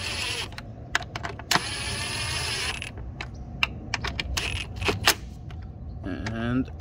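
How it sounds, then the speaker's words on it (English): A 5/16 socket ratchet secures two bolts on a plastic evap purge valve of a 2012 Ford F-150, giving close, sharp clicking and ratcheting taps in irregular bursts, with a brief whirring run and some talk. "We're going to grab our 2 bolts and secure this thing down. Alright, and we're going to be using a 5/16 socket to secure these down."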